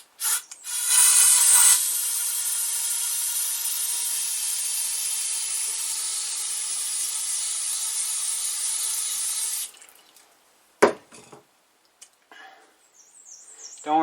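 Brake cleaner sprays from an aerosol can into an air rifle barrel in a loud, steady hiss lasting about nine seconds, followed by a few brief clicks and handling noises.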